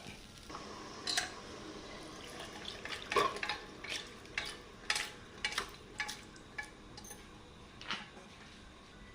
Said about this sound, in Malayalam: ഇനി നമുക്കിതിനെ അങ്ങോട്ട് നന്നായിട്ട് ഇളക്കി കൊടുക്കാം